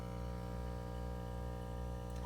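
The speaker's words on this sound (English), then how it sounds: "Sorry for the buzzing, that's my air pump for my sponge filter." A steady, monotonous electrical buzz from an aquarium air pump running a sponge filter drones close by without a break, a constant hum with no other sounds over it.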